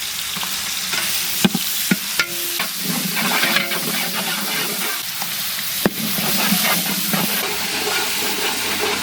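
Onions and coriander sizzle in hot oil with ginger and garlic for Ambur mutton biryani, a steady frying hiss with stirring clatters and occasional sharp utensil knocks throughout.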